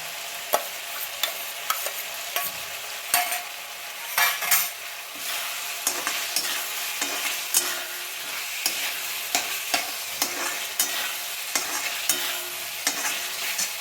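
Three chopped green chillies and a chopped tomato frying in a pan for chicken ghugni, a constant close sizzle with rhythmic spatula scrapes and taps against the pan throughout.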